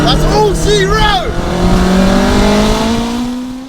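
Honda Integra, an AWD 770 hp build, drag racing a 900 hp Audi Quattro, engines roaring loud and sustained with rising revs and a brief tire-squeal-like whine, an announcer talking over the run.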